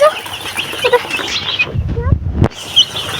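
Chicks and hens clucking and cheeping close by in a Nepali home farmyard, with busy overlapping calls and a voice talking among them.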